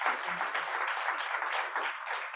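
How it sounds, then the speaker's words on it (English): An audience at an author event in the Port Washington Public Library claps together, a full, even round of applause that holds steady throughout, with a brief murmur of voices near the start. "Let's have a round of applause."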